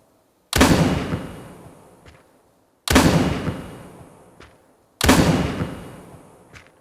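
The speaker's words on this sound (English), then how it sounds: "I just fire off the gun a few times just to prove that you've basically got unlimited bullets" Three loud, close gunshots from a ghost-hunting video game, the weapon fired to banish a spirit, each a sharp blast with a long decaying tail, spaced roughly two seconds apart, with no talk.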